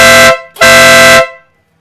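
Denali SoundBomb split air horn fitted to a 2017 BMW R1200GS Adventure motorcycle, two loud blaring blasts, a short one then a longer one, harsh and close, fading out at the end.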